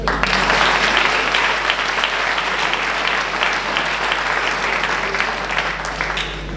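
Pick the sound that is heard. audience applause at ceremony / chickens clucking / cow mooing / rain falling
audience applause at ceremony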